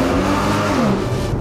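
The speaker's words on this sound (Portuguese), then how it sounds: "eu quero ouvir o ronco da máquina, o ronco do motor" A blue Porsche's engine roars steadily while driving through a city centre, a loud, close, continuous rumble with a rising and falling pitch and no talking.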